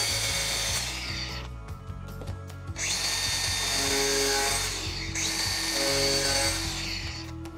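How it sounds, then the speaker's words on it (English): Diamond-tipped grinder cutting through masonite wall panel in a shop, loud whining bursts that rise and drop off in several passes with brief pauses between cuts. "I'm gonna come in with a diamond tipped grinder for this masonite, cut through here"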